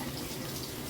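Water streams steadily from the handheld spray arm of an all-metal 10-inch rainfall shower head combo, a continuous close hiss of running water with no break across the short stretch.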